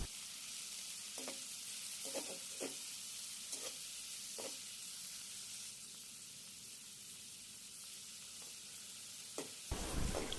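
Shrimp frying in a pan for a curry made with sponge gourd, a quiet continuous sizzle with occasional light clinks of stirring and a louder clatter at the end.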